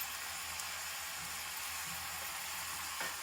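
Chili powder, coriander powder and garam masala fry in hot oil in a pan for tomato bath, giving a steady, fairly quiet sizzle with faint stirring scrapes and no talk.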